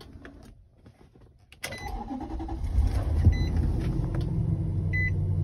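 A 2011 Nissan Armada's engine cranks and catches at about 1.6 seconds after a quiet stretch, then settles into a steady, fairly loud idle heard from inside the cabin.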